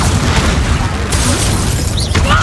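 In Hogwarts Legacy, a Confringo blast spell goes off as a single loud burst with a roaring spread of noise, and game sounds follow close behind.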